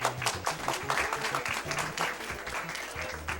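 An audience at a summer speedrunning marathon event breaks into steady applause, dense clapping carrying on for a few seconds at moderate volume with some speech faintly mixed in.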